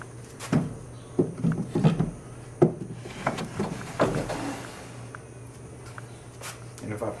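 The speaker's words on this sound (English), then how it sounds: "and then put the drawer in" A wooden drawer slides into a DIY pecan chest of drawers with several knocking thuds and scraping bumps, fairly close, followed by a softer rustle.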